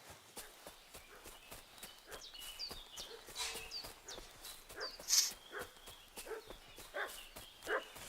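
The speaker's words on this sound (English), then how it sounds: "What's that dog making such a fuss about?" A dog barks in the video game Kingdom Come: Deliverance 2, a few sharp yelps rising over soft footsteps and an outdoor game ambience, moderately distant and loudest near the middle.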